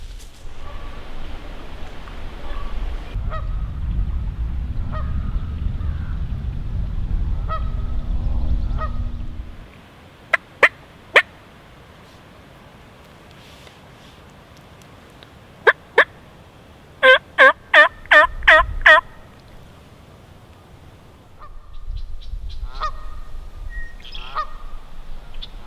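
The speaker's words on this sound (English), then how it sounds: "There's hens and gobbling up that direction" Wild turkeys in Iowa public-land woods, several gobbles ringing out in quick bursts from a distance, with hens calling amid low wind rumble and footsteps; no talking.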